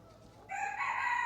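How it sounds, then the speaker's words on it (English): Chickens in a coop where their roost has been knocked over; one hen chases the others around. A quiet murmur gives way to a loud, sustained crow that rises and holds to the end. "The chickens are making a racket"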